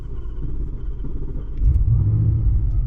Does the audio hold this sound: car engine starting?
yes